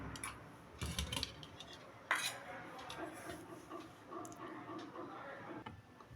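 Meat is served with cutlery onto dishes at a home lunch, producing scattered clinks and scrapes of metal against plates, with a couple of sharper knocks, fairly quiet and close.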